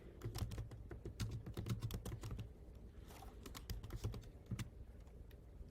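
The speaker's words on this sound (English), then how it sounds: "I'm going to type in the state that I'm in" Keystrokes on a computer keyboard as a web search is typed, a quick irregular run of close clicks with a short pause midway, no voices.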